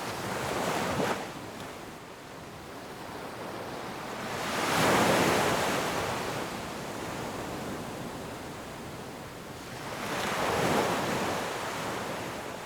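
Surf rolls onto a wild beach beside the jungle in Costa Rica, broad crashing waves swelling and receding about every five seconds over a constant wash of water and wind.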